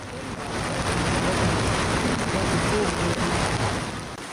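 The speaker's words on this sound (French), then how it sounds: "la pluie, elle, continue de tomber" Heavy rain pours steadily during a flood, a dense, even hiss of falling water that stays loud and unbroken from start to finish.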